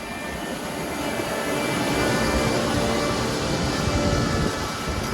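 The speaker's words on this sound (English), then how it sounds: "That's the other part of the elevator that's taking it up to the tank." Sugar beet harvester in a field with its elevator carrying beet up to the tank: a steady, loud broadband machine roar and rattle throughout, with no talk.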